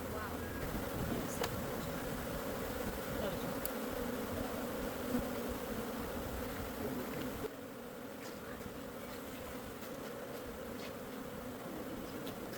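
Honey bees swarm in a dense, steady buzz around an open hive where drone comb has been built on the top cap. The close drone drops slightly in loudness partway through but never stops.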